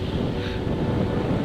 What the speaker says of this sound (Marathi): लॉट्स ऑफ वारा